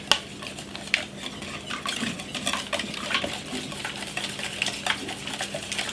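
Pumpkin purée being stirred into a tart filling in a bowl, a steady run of soft scraping and clinking utensil strokes against the dish, close and fairly quiet, with no talking.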